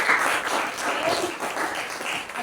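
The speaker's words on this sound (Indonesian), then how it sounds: "Tepuk tangan tuh." A class claps together in a room, a busy, even patter of many hands sustained for a couple of seconds at moderate loudness, with faint voices underneath.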